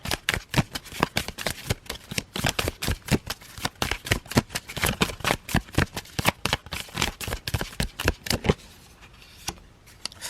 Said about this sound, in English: So because it said to shuffle and pull another card, I will.